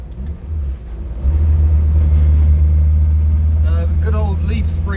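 An old car with coil springs and double wishbones up front and leaf springs at the back drives on the road, its engine a loud, steady low rumble that lifts slightly as it pulls, with a person talking over it.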